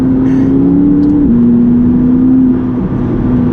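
A McLaren 570GT drives a twisty country road in Gloucestershire, its engine a loud, steady drone from inside the cabin, dipping briefly as the gear changes and then holding a sustained hum.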